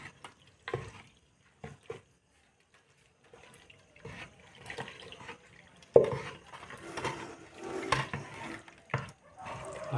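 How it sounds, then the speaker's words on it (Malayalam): Stirring grapes with a stick for homemade wine gives wet, squelching swishes and sloshes in intermittent bursts, growing busier in the second half. "നമ്മളിപ്പം ഗ്രേപ്സ് മിക്സ് ചെയ്തുകൊണ്ടിരിക്കുകയാണ്."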